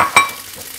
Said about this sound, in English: You wanna hear that sizzle, okay? We've got a good sizzle going on.